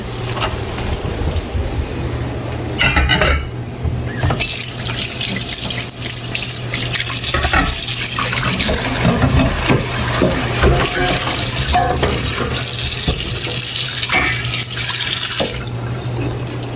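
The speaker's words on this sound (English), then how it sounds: "So we're just gonna let this fry." Fish frying in a pan with a tail piece and a slice, a steady loud crackling sizzle that runs throughout, close and continuous with bursts of brighter spitting.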